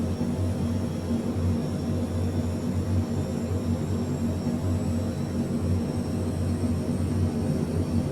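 Airbus A400M turboprop engines running in Microsoft Flight Simulator 2020: a steady, loud, continuous propeller drone with a low hum and broadband roar, unchanging for several seconds, no talk.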